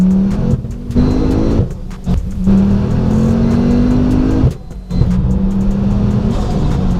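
A tuned 600 bhp Ford Focus ST accelerates hard through the gears, its engine note rising loud and close in long pulls, broken by brief drops at each gear change, with no talking.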